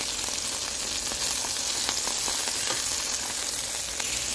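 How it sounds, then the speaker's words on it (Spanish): Fish fillets frying in hot oil give off a continuous close, bright sizzle with scattered crackling pops, steady for a few seconds and free of speech. "Ya calentó el aceite, voy a agregar los filetes."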